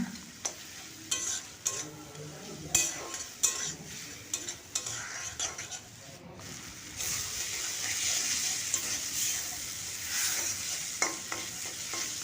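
Masala with a spoonful of ginger-garlic paste sizzles in a pan over medium heat, a soft frying hiss broken by repeated spatula scrapes and clinks against the pan.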